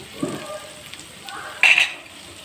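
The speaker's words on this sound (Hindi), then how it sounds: "मिर्चों को भी इनके साथ ही मैं फ्राई कर दूंगी।" Green chilies, cut lengthwise, fry alongside potatoes in hot oil: a soft, steady sizzle that swells into a brief, louder crackling burst near the end. No one speaks.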